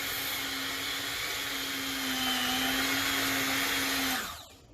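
A powerful electric mixer whirs steadily at high speed while beating ingredients together, a loud, close, even motor whine with a slight rise in pitch before it winds down and stops near the end.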